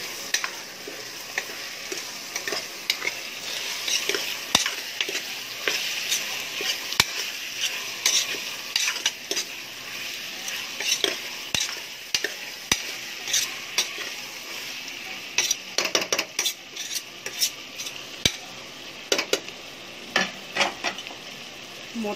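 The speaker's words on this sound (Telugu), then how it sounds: "అందులో వేసేసి మనం కలపెట్టుకుందామండి." A spoon stirs and mixes coconut milk biryani ingredients in a cooking pot, with a soft sizzle beneath repeated scraping strokes and sharp metallic clinks against the pot's sides.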